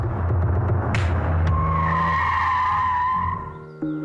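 A car speeds along with a loud, sustained tire squeal and skid rising over the engine roar for several seconds, then cutting off abruptly near the end.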